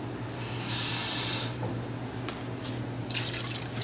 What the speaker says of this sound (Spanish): Vamos a echarle aproximadamente una taza y media de agua, quizás un poquito más.